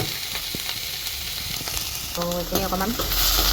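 Chopped jackfruit and vegetables frying in hot oil for an Assamese jackfruit sabji, a steady close sizzle with stirring scrapes, and someone speaking briefly over it.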